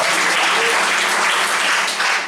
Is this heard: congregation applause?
yes